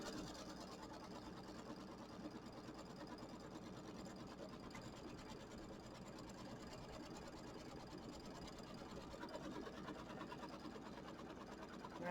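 A sewing machine tacks down quilt fabric for a Kimberbell mini quilt, running in a steady, fast, faint mechanical whir with a continuous needle patter throughout.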